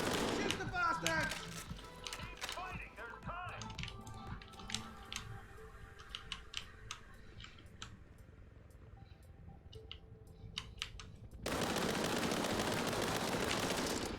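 Gunfire in a first-person shooter game: rapid bursts of clicky shots cluster in the first seconds, then sporadic single reports continue at moderate loudness, and a burst of broadband noise takes over near the end.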